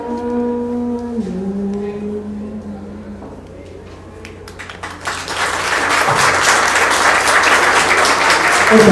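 Audience applause following a live oral storytelling performance, starting after a sung or spoken phrase and swelling into loud, sustained clapping from the crowd over the second half.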